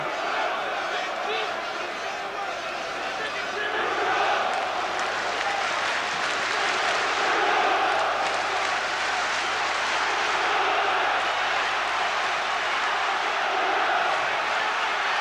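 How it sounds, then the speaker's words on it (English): A boxing crowd applauds throughout the Witherspoon vs Bruno heavyweight fight, a constant roar of far-off clapping and cheering mixed under ongoing commentary. "Constant now applause from the crowd, apart from the Bruno chants."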